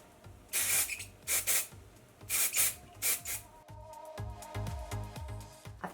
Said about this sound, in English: I'm just going to add a bit of like clay spray to the ends